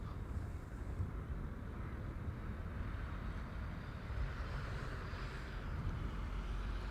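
A Turkish Airlines jet departs Amsterdam Schiphol for Istanbul, a steady, distant engine rumble with a faint whine that holds evenly throughout.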